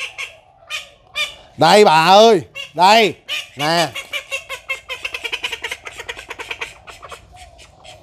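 Call ducks call loudly up close with several harsh, honking quacks, then a fast run of softer chattering calls, while a person speaks briefly.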